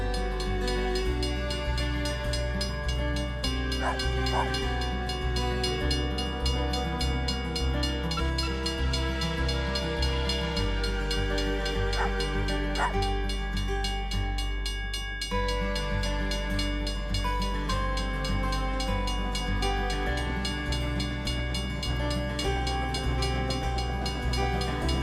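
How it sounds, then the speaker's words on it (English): A train crossing a highway and travelling around Tickle Belly Hill on the Nullarbor gives a steady, close, heavy rumble and wheel clatter that runs throughout. A couple of brief horn notes sound over it, and no one talks. "We were very fortunate to catch up with the train as it crossed the highway and travelled around Tickle Belly Hill"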